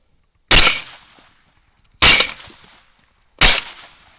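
Three loud, sharp rifle shots at a wild hog during a Texas hunt crack out about a second and a half apart, each followed by a short decaying echo, with no talking.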